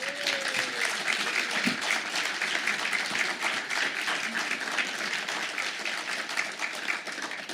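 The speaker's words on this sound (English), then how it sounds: "Audience, you may now give them a round of applause" A debate audience at Benedictine University applauds the candidates, a broad continuous roar of clapping from a large crowd that holds steady for over seven seconds, with a brief tonal hum near the start.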